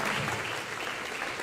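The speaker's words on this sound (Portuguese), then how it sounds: "Aplaude a Jesus, glorificando a Deus." A church congregation claps together in dense, steady applause that fills the whole moment without a pause, loud and close, with no voices rising above it.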